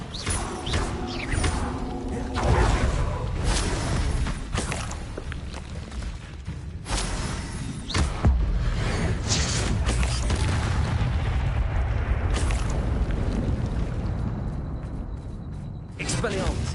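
Spellcasting effects in Hogwarts Legacy, a run of loud booming impacts and crashing bursts one after another, with a spoken voice heard over the game sounds.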